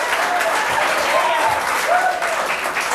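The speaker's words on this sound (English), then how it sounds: "They're applauding before we even turn around the dollar selections" Studio audience at a game show applauding, a dense, loud, continuous wash of clapping heard close throughout, with faint voices mixed in.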